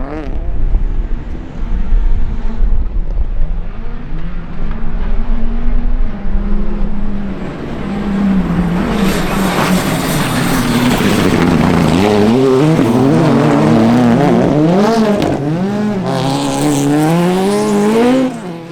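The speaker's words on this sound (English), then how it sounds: "Aaron has a spin and drops a heap of time and slips to third place" A rally car on a closed stage at the St. Angelo summer series revs loudly and close, with the engine pitch rising and falling through gear changes. Tire scrubs and skids come as it spins.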